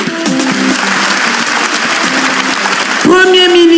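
Applause from a crowd welcoming a prime minister at a public gathering, a dense continuous clatter of hands, loud and close, with a sustained musical or feedback tone rising near the end.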